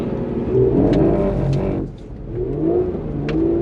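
A Porsche sports car engine revs hard and loud during a drift test, dipping briefly before climbing again, with the tone shifting through sustained droning pulls.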